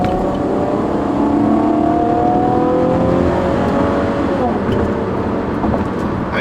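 2012 Chevrolet Camaro 2LT accelerating at three-quarter throttle on a highway, a loud continuous engine roar with rising tones heard from inside the car.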